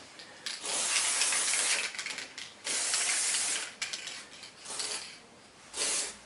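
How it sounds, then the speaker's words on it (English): A dry lubricant aerosol hisses in several bursts onto a leaf spring of a 1968 MGC, each spray lasting about a second with short pauses between, close and fairly steady. "I'm going to take the dry lubricant here and just spray it on."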